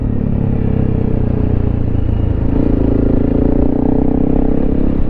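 A Honda CRF300L Rally motorcycle rides off-road over bumps in third gear under throttle, its engine a loud, continuous, close drone with steady rumbling and slight rise in pitch toward the end, heavy wind buffeting throughout.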